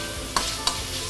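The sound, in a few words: cabbage and carrot stir-frying in oil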